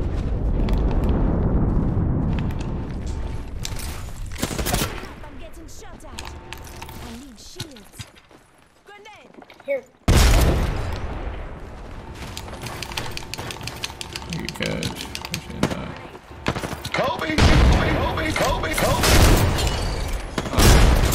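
Grenade explosions and rapid gunfire from the Apex Legends battle royale game, a dense run of loud, close booming bursts and crackling shots with a short lull midway, as a voice talks underneath.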